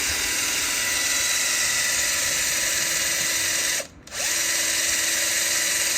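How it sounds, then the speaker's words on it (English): A power drill whines steadily and loudly at close range while drilling during motorcycle handlebar installation on a Triumph Street Triple 675, cutting out briefly before spinning back up and continuing. "this is a better drill because it doesn't wander"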